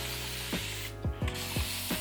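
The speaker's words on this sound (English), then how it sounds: "Just spray the treatment into" Five quick, close spritzes from a hand spray bottle applying a rice water hair treatment, each trigger pull a short click-and-hiss burst in a quiet room.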